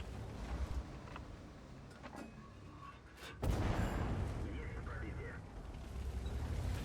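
In World of Tanks, a heavy tank cannon blast booms suddenly partway through, followed by a rumbling roar, over a constant background din with faint voices.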